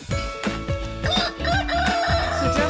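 A farm rooster crows loudly and close, one of several kept on the property, its drawn-out, harmonically rich call sounding over a rhythmic background of clucking or pulsing noise.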